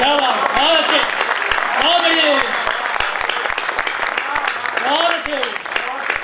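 Audience applause fills a Hindi comic poetry recital at a kavi sammelan, a dense, sustained clatter of many hands that carries on throughout, with voices calling out over it.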